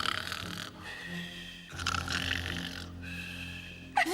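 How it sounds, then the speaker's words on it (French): Loud, heavy snoring from a sleeping bear in an animated film, drawn-out rumbling breaths repeating in long cycles with gaps between, close and prominent with no talk over it. "Le plus gros ronfleur, c'est Balou."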